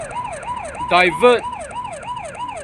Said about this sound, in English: So then I'll turn on my warning light and my siren mode like this.